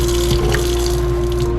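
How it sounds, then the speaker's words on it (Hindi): Water runs steadily from a tap opened at a sink in a home, a close, loud, continuous gush with a faint hum beneath and no talking. "हल्का सा नल खोल और पानी थोड़ा छिड़क दे"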